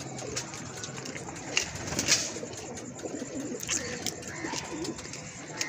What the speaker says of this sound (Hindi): आगे से कबूतर इधर को घेर के ला ना।